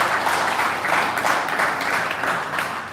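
Crowd applause and clapping at a winter tandem drift competition, a steady wash of many hands lasting the full three seconds without pause, moderately distant and even in level.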